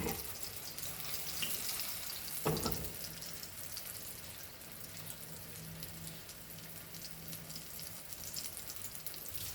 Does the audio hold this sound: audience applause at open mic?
no